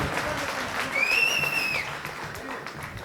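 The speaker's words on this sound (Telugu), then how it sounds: "దాని చప్పట్లు కొట్టాలి గట్టిగా" An audience at a Karimnagar Kalabharathi song event applauds writer Nalla Teegala Srinivas; a few seconds of steady clapping from a crowd, with a brief high whistle-like tone rising over it midway.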